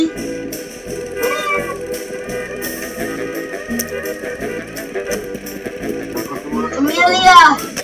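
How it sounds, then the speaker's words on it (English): A cat meows several times amid excited people's voices, its cries rising clearest and loudest near the end over the chatter. "My cat!"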